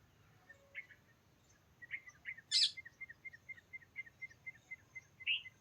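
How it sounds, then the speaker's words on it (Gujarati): Parrots give short, sharp chirping calls in a fairly quiet outdoor setting, first scattered and then in a steady run of repeated squawks, with one louder shriek near the middle. "અહીંયા જોઈ લ્યો પોપટ ટોંકા કરવા માંડ્યા છે"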